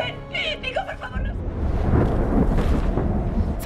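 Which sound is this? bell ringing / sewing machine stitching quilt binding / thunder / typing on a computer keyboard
thunder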